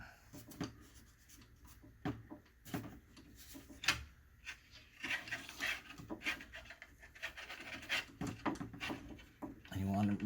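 Picture-hanging wire being twisted by hand for a heavy frame: soft, close scraping and rubbing with small metallic ticks in an irregular rhythm, faint and intimate, with a quiet voice at times.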